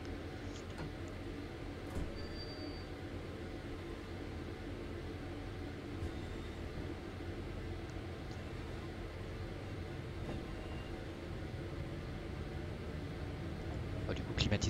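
A train in Train Sim World 3 pulls away on the Birmingham Cross City line toward Sutton Coldfield. A steady, dense rumble of wheels and motor runs throughout and builds slightly near the end.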